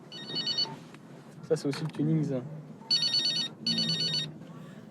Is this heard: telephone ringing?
yes